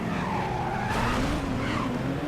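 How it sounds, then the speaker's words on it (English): A race car in the Midnight Club 2 video game, its engine note rising and falling under skidding tire squeal, loud and continuous throughout with no voices. "it's just such a cool, cool just sounding engine note"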